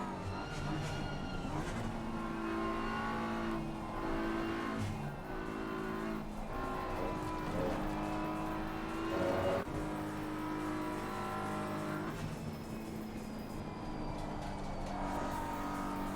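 Race cars, including a Porsche, lap Paul Ricard in a racing video game, with loud engines revving and shifting through gears and other cars passing close by, but no talk.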